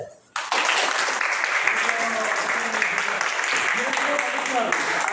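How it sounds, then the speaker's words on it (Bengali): An audience at a Gita class bursts into applause after a short quiet start, with dense, sustained clapping from many hands, loud and continuous to the end. "একটা হাততালি দেয়"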